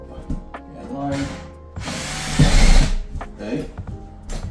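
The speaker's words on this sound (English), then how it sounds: "I'm going to drill a hole right through this from underneath now" Power drill boring up through plasterboard from underneath during a home renovation, a brief whirring burst rising to a louder grinding push midway, close by, with some talk and handling noise around it.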